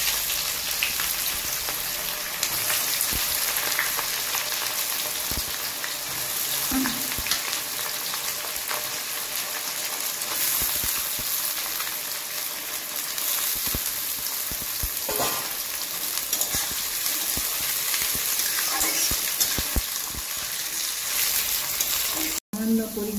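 Onions fry in oil for a mutton curry, producing a continuous close sizzle with occasional stirring scrapes and clatter for the whole stretch.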